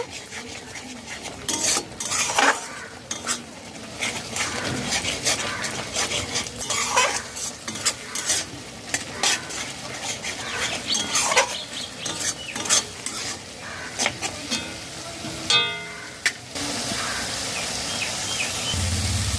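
Spices with Kashmiri chilli powder and a splash of hot water stir-fried over a high flame, a constant sizzle under busy, irregular scraping and clinking of a metal spoon against the pan, close and fairly loud, with no speech.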